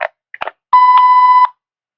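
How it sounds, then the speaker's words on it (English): A single long electronic tone on a U.S. Department of State phone comment line, steady and loud for under a second, following brief clipped fragments of a recorded voice. "Please leave your message after the beep."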